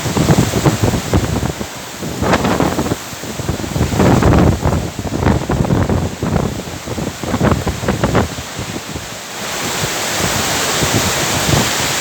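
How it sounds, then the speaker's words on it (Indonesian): Strong gusting wind roars with heavy rain outdoors during a storm, a loud continuous wash with repeated surging gusts and no talking. "anginnya terlalu kencang, hujan angin"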